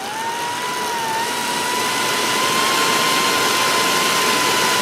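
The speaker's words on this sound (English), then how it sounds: "And the airspeed from my blower is about" A handheld air blower blows steadily at a bare CPU with no heat sink, a loud, even rushing roar with a faint whine that holds unbroken throughout, with no talking.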